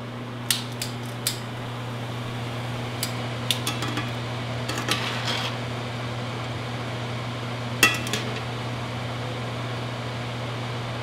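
Dishes and utensils clatter while a scallop salad is plated, a few sharp clinks and taps scattered over a steady low kitchen hum, moderately close with no talking.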